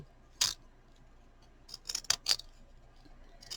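A few short crisp snips of scissors cutting paper, one isolated cut then a quick cluster of three or four, close and fairly quiet with no talking.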